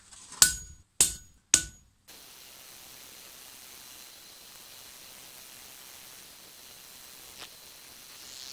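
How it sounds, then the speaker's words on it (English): Three sharp metallic hammer strikes on a center punch ring out in quick succession on forged metal, each decaying briefly, followed by quiet hiss and one faint tap near the end. "we're just going to center punch it down and drill the holes"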